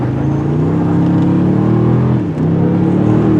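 A 2024 Toyota Tundra iForce Max hybrid pickup spins its tires, producing a loud steady engine roar with a dip and recovery partway through, close and with no talk.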